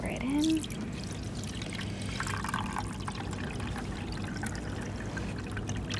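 Buffer pours steadily into the chamber of a gel electrophoresis setup for urea PAGE, a continuous close trickle lasting several seconds after a brief voice at the start.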